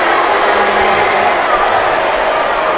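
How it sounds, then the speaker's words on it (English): Indoor crowd in a MASL arena soccer match between Harrisburg Heat and Utica City FC, a loud steady roar of jeers and shouting aimed at the referees after a free kick, filling the whole stretch with no letup. "this crowd has really had it with the referees"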